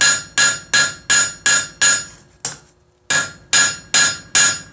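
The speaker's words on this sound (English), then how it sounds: "This little hammer's not doing squat anymore." Small hammer striking metal pedals being bent cold, about ten sharp ringing blows in an even rhythm with one short pause midway, loud and close.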